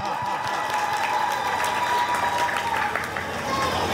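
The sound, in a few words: audience applause after poem recitation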